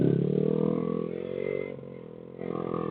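A motorcycle rides up and down a parking lot, and its coil is faulty. The engine drones steadily and close by, dips briefly in the middle, then swells again.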